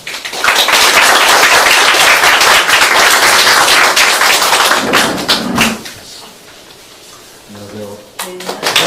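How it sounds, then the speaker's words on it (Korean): Church congregation applauding at an Easter Sunday service, loud dense clapping for about five seconds that dies away, followed by quieter room sounds and a voice beginning to speak. "나오실 때 격려의 박수 부탁드립니다"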